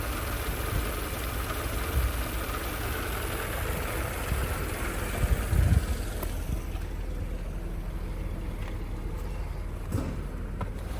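A 1988 Mercedes-Benz 190E (W201) engine idles steadily with a low, continuous rumble that eases slightly partway through as the revs settle, with no voices.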